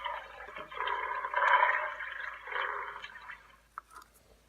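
Hasbro Star Wars BB-8 The Last Jedi playset toy playing its Dianoga creature sound, a faint, wet gurgling growl from a small speaker lasting a few seconds.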